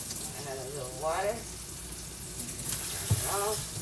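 Water runs steadily into a cooking pot holding sweet peas, a continuous hiss with voices talking over it.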